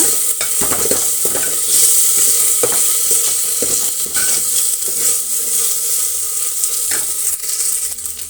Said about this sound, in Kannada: ಇಷ್ಟನ್ನು ಸೇರಿಸಿ ನಾವು ಒಗ್ಗರಣೆ ಮಾಡೋಣ